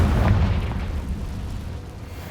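A Confringo blasting spell explodes in Hogwarts Legacy, a loud, deep boom with a sharp burst at the start that rolls into a low rumbling tail, with no talk over it.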